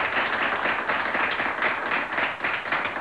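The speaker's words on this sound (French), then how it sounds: "on vous applaudit" Studio audience applauding on a French-language TV game show, a steady dense wash of clapping that holds at a fairly even level for the whole stretch.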